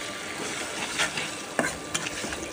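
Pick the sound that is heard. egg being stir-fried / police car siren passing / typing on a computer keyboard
egg being stir-fried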